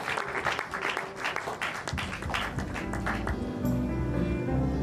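A church congregation applauds in praise of God, steady dense clapping that fades into a softer crowd murmur near the end.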